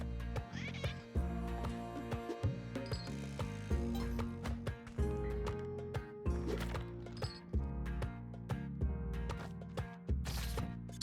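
A cat in Spelunky 2 gives a few short meows amid clicking, ratcheting game effects and background music, moderately loud and up close.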